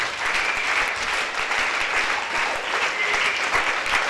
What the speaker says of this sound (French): Acclamez très fort pour cette dame.